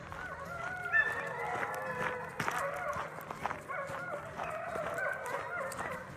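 Wolf dogs, ten percent wolf, barking and yelping from a neighbor's yard in a busy mix of overlapping barks and howl-like calls, steady and moderately close throughout.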